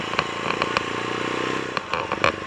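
KTM 690 single-cylinder motorcycle engine bogging at low revs, a steady lumpy idle-like chug with irregular clattering pops and sputters, close and moderately loud.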